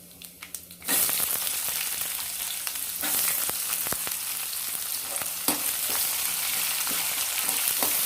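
Chopped onion dropped into hot oil, bursting into a loud steady sizzle after a second of near quiet, with occasional spoon clicks as it is stirred.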